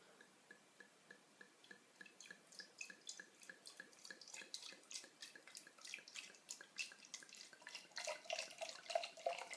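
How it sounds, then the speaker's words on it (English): Homebrewed beer poured from a bottle into a glass, a steady trickling, splashing stream that builds in fizz and foam toward the end, quiet and close with no talk. "Let's give it a pour."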